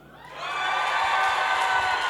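A live audience of young people at a vocational youth event bursts into cheering, a roar that swells quickly and holds steady, full of high whoops and shouts.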